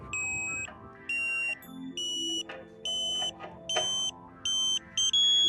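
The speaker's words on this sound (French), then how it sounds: "Vous devez entendre la tonalité baisser une deuxième fois." A Tooway KA-SAT satellite dish alignment tool gives repeated high electronic beeps, about eight short evenly spaced pulses whose pitch shifts from beep to beep, sounding clear and close.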